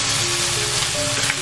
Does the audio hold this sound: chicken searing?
yes